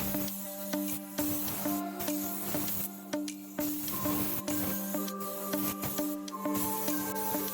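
Candy black topcoat is sprayed onto speed shapes in short, repeated hissing bursts with brief pauses between passes, moderately quiet and steady, with no talking.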